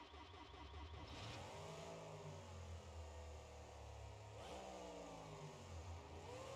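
Baby Mutant Monster Energy all-wheel-drive monster truck in BeamNG.drive, its engine starting right up and then running and revving loudly and steadily, with pitch sweeps as the throttle rises and falls twice.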